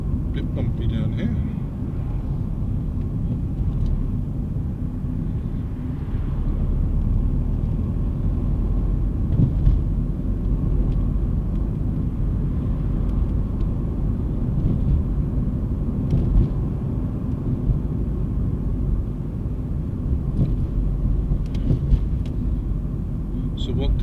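A car drives down a bumpy road during a beginner's driving lesson, giving a steady, close cabin rumble with faint knocks and jolts throughout.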